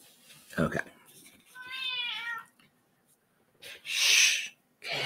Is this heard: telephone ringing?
no